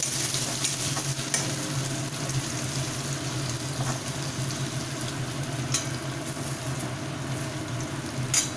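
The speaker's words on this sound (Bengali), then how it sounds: "সাথে কিছুটা আদা বাটা এবার ভালোভাবে কটে করে নিচ্ছি" Ginger paste fries in a pan with a continuous soft sizzle, while a spoon stirs and scrapes the pan in occasional light clicks, close and without talk.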